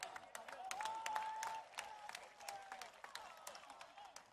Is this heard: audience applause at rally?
yes